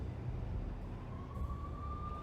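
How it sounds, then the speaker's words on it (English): Police siren wailing in the video game Max Payne as NYPD units close in, a single rising tone emerging over low rumbling background, moderately loud. "The NYPD was closing in. I could hear the sirens. Their wail was a crescendo."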